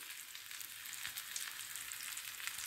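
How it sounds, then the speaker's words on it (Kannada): Rava-coated fish fries slowly in oil on a tawa, a soft, even, continuous sizzle that stays faint and steady throughout with no talking. "ಈ ಥರ ನಿಧಾನವಾಗಿ ಫ್ರೈ ಮಾಡಬೇಕು"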